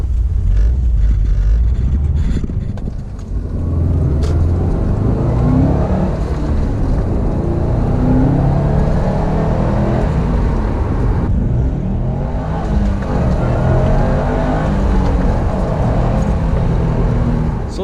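A Subaru WRX STi with 305 horsepower and all-wheel drive revs hard while driving, the engine note rising and falling through repeated accelerations, loud and close throughout.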